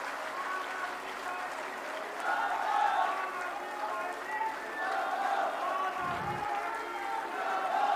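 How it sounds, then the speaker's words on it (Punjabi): A crowd at an AAP Punjab political rally in Jalandhar claps and cheers in steady, sustained applause, heard from a distance beneath a loud amplified voice addressing the gathering. "ਜ਼ੋਰਦਾਰ ਦੋਨੇ ਹੱਥ ਉੱਪਰ ਚੱਕ ਕੇ ਤਾੜੀਆਂ ਮਾਰ ਕੇ ਸਾਡੀ ਟੀਮ ਦਾ ਹੌਸਲਾ ਵਧਾ ਦਿਓ"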